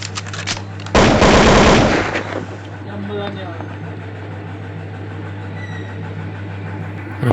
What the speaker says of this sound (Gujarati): તો હાલો ભાઈ આપણે બંદૂકને મારી દેવી ગોળ.